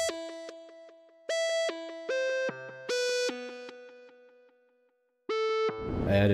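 A Serum synth melody played on the Chord Pulse 2 preset with no effects: bright, buzzy chord stabs in a choppy rhythm, each note cut off dry with gaps of silence between them.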